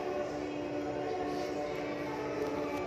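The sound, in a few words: LRT train passing near Marikina-Pasig station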